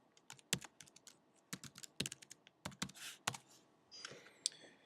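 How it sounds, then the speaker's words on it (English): Keys clack on a computer keyboard while a username and password are entered, sharp individual clicks in short irregular bursts with brief pauses, close and clear with no one talking. "typing in your username and password for your computer"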